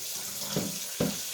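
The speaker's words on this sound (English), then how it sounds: "Let me rinse it off." Tap water runs in a steady hiss while corned beef is rinsed under it in a kitchen sink, with two brief splashing surges as the stream hits the meat.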